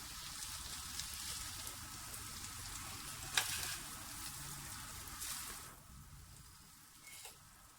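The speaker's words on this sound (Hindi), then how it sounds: "राइस को हम मिला लेंगे।" Rice and chicken frying together in a pan as they are stirred and mixed, a soft, steady sizzle with one brief clatter midway, fading slightly toward the end.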